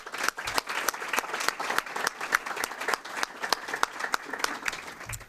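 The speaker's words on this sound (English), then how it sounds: "they deserve a round of applause" Dense crowd applause at a civic State of the Cities address in Berkley, with many sharp overlapping claps fairly close and loud, holding steady for about five seconds with no talking.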